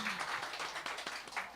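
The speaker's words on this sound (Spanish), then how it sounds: "Aplausos." Sparse applause at a Spanish- and Kichwa-language community talk: a small group claps quietly at a moderate distance, with uneven, thin hand claps and no speech.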